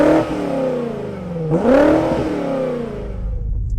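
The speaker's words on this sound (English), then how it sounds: "it's time to rev up this X5 M Competition" A 617 hp 2020 BMW X5 M Competition SUV engine revs hard, dipping then climbing in a loud surge before settling into a steady rumble, close up with no talk.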